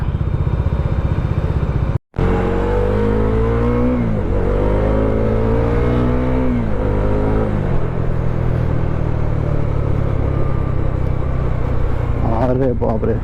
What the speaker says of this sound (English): we are getting stuck in traffic for 5 to 10 minutes